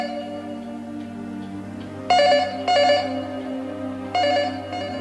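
Telephone ringing inside a house, sounding in short repeated bursts of a bright bell tone over a steady low hum, moderately close.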